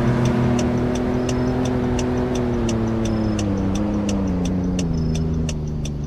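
A Ford pickup truck engine in Roblox hums steadily as the truck drives, a continuous low drone that slowly drifts down in pitch, overlaid with a regular ticking pulse.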